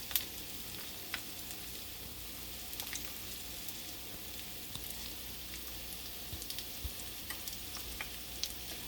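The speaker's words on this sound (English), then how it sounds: "You let it fry for about" Pakora frying in a pan of hot oil, giving a steady close sizzle with scattered small pops and crackles throughout, no voices.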